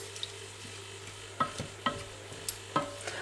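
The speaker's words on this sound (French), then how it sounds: "on porte à ébullition en mélangeant entre deux et on garde l'ébullition pendant à peu près 15 minutes" Strawberry and elderflower syrup simmers in a pot, heard as a faint bubbling hiss broken by a few soft spoon-stirring clinks and scrapes spaced a second or so apart.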